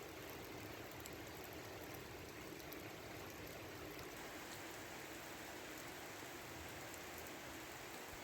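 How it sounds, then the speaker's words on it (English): Rain falls on a newly planted flower driveway and a house roof, making a steady, even hiss of drops with no pauses and no voices. "What a beautiful thing to have the rains fall immediately after planting."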